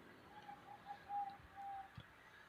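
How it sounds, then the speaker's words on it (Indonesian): A zebra dove, or perkutut, kept as a pet in a room, gives soft, faint cooing notes in a short broken series over a quiet background. "Suara burung perkutut gue masuk nggak itu ya?"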